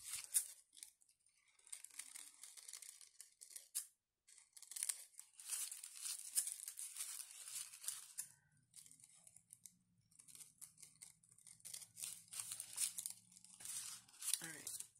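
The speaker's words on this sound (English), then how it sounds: "I'm going to trim the tulle so it's kind of like to the edges." Scissors snip and crunch through tulle fabric while making sewn rosettes, close-up in repeated bursts of cutting with brief pauses, and a faint low hum in the second half.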